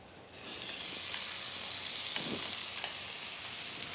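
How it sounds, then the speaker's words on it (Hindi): Marinated chicken sizzles steadily in a pan with softened onions, a continuous close frying hiss broken by a few soft stirring scrapes. "मैरिनेटेड चिकन डाल देंगे इसमें"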